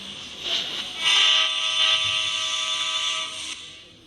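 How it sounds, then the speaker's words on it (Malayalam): A train moving in the video game Indian Bike Driving 3D sounds a sustained, bright horn-like tone over a low rolling rumble, swelling louder midway and then fading, with no voices. "നമ്മൾ ട്രെയിനാണ് സഞ്ചരിക്കുകയാണ്."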